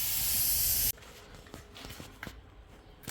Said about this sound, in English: This is what you need, one of these guns. It's very simple to use. You just need an air compressor.